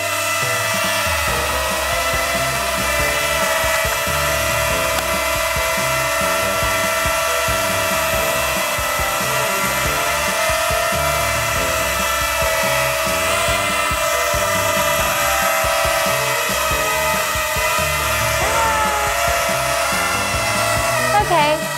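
A ZEROTECH Dobby drone's small propellers whirring through a palm takeoff, a constant high-pitched buzzing whine that holds steady throughout, close and fairly loud.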